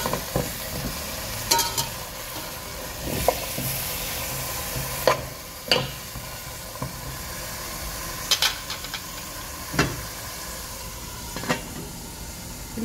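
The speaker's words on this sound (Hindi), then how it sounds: "इसी तरह ये आधा घंटे बस आपको ना पलटते रहना है ताकि ये जले ना।" Sweet potatoes (shakarkandi) slow-cooking in a pot over low heat are turned repeatedly, with sharp scraping and knocking strokes at irregular intervals over a soft continuous sizzle.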